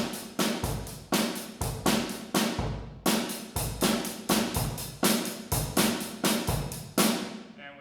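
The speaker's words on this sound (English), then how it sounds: "if I were to play Ayazin on the drum set for maksum, it would sound like this." A drum set plays the Ayazin rhythm in the maksum pattern, with punchy kick and snare hits and crisp cymbal strokes falling in a repeating, syncopated cycle, close and clear with a short break midway.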